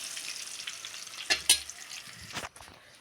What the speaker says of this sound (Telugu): కరివేపాకు నిమ్మకాయ పసుపు వేసాను ఫ్రెండ్స్ చూడండి ఎలా వేగుతుందో